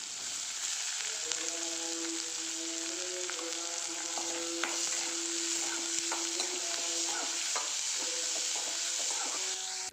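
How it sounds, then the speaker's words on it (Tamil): Onions and mustard seeds fry in oil in a kadai with a steady, bright sizzle throughout, broken by soft stirring scrapes and small crackles, close and continuous with no talking. "நம்ம கட் பண்ணி வச்சுருக்க வெங்காயத்தை இது கூட சேர்த்து நல்லா வதக்கி எடுத்துக்கலாம்"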